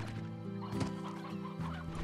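Chickens in the farming game Slime Rancher cluck in short repeated bursts, a close, moderately loud run of clucks and squawks over a steady background hum, with no speech.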